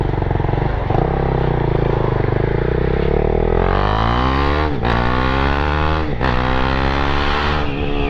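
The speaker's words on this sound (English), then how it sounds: "His bike started." A motorcycle engine runs loudly and close after being bump started, its steady idle rising into revs with a couple of brief dips, all with no talking.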